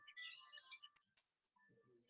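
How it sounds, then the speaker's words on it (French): A small ringtone chimes during a gym class, a bright electronic melody ringing clearly for about a second before fading into quiet, with faint low rumble after. "La petite sonnerie est là."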